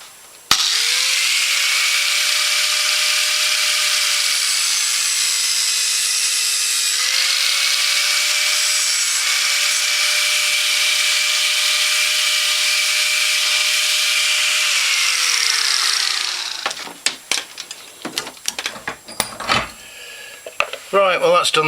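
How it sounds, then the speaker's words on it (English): Angle grinder cutting off a seized drum rod: a loud, steady, high-pitched whine that holds for about fifteen seconds with a slight dip in pitch partway, then winds down and gives way to clattering handling noises. "I'm just going to cut that off, get the old angle grinder out and replace them"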